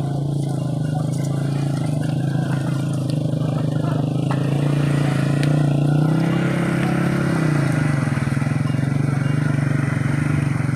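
A motorcycle engine runs steadily with a low, throbbing drone, revving up and then dropping back, close by, amid some clattering, as the motorcycle is stuck.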